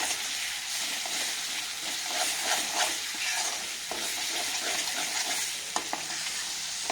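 Masala spices frying in a pan for a homemade matar paneer curry, a continuous close sizzle with the scrape and rustle of stirring throughout, and a couple of faint taps near the end.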